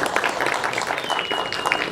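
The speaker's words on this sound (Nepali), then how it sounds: "तपाईँहरूको सम्मान स्वरूप जोरदार ताली बजोस्" An audience at a Nepali film event for the movie Parva applauds, a dense, even burst of many hands clapping at moderate distance.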